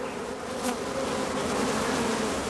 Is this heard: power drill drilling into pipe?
no